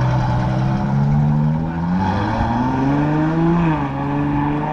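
A custom Ferrari engine revving up at close range, a loud, steady, throaty drone whose pitch climbs and holds across several seconds before settling, with no voices over it.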